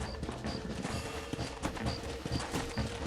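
Horse hooves clip-clopping in Red Dead Redemption, brisk rhythmic hoofbeats under a dense game mix with music and chimes, no talk.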